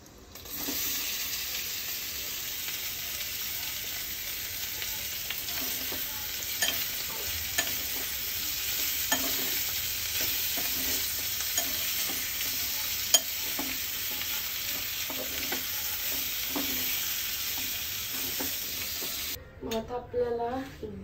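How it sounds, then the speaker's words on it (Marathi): Boiled cubed potatoes tossed into hot tempering in a pan, a steady bright sizzle of frying with repeated scraping stir strokes throughout and a short clatter at the end. "मग हे झाल्यावर आपल्याला त्याच्यात टाकायचं आहे हे उकडलेले क्यूब केलेले पटेटो"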